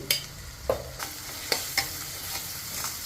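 Spice masala sautéing in a pan, a soft sizzle punctuated by sharp periodic spatula scrapes and taps about every half second, close by with no talking.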